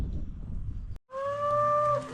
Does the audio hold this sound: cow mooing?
yes